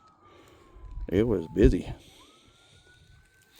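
Emergency vehicle siren in Pole Canyon, a thin wailing tone sliding slowly down then rising again, heard at a distance beneath a man's brief speech.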